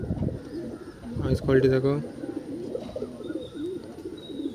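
Adult white Madrasi male pigeon at a loft, giving repeated low, rolling coos close by, with a short stretch of talk partway through.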